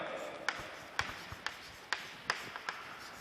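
Chalk writing on a board during a physics class, a series of sharp taps and scratchy strokes at an uneven pace, close and clear with no talking over it.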